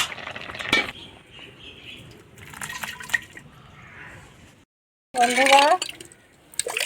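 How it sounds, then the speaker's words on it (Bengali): Boiled water pouring off a pot of black taro (kochu) in a kitchen, with trickling, dripping bursts and a brief clink of the pot, broken by a short silence before a louder splashing pour. "সিদ্ধ হয়ে গিয়েছে এখন আমি নামিয়ে জল ঝরে নিই"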